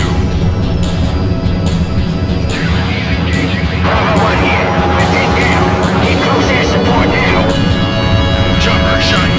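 A helicopter shot down in Ace Combat 04 combat: a loud, dense roar of aircraft engines and blasting explosions, continuous and heavy throughout, with a radio voice and busy game sound layered over it.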